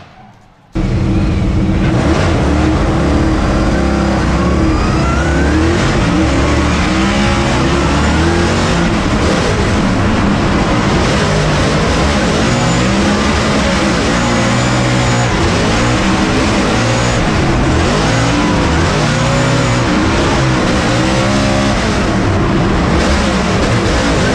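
Formula Drift cars roar through a street course in Long Beach, with engines revving hard and wavering as they slide, loud and continuous for the whole stretch after an abrupt start.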